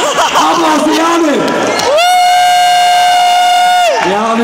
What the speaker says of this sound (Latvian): Aplausi Jāni